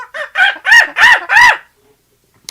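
A person loudly imitates a chimpanzee call with four or five rising, hooting cries close to the microphone, then silence.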